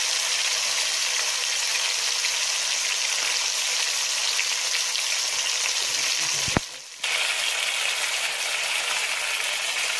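Chicken pieces fry in a pan for Pakistani chicken layer biryani, giving a steady, dense sizzle close up that briefly dips before resuming.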